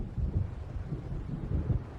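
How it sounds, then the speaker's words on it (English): Low thunder rumbles and rolls in the Alan Wake Remastered video game, a dull, muffled swell that pulses repeatedly beneath wind-like noise, with no voices. "It seems there's a storm coming."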